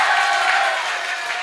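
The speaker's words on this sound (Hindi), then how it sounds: "अब मेरी होशियारी के लिए तालियां बजाना।" A crowd claps and cheers at a Hindi kavi sammelan poetry event at an engineering institute in Ghaziabad, a brief loud wash of applause.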